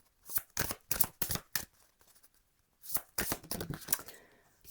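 Tarot cards are shuffled in quick, crisp riffling bursts, two clusters of sharp papery slaps separated by a brief pause, close and quiet with no talk.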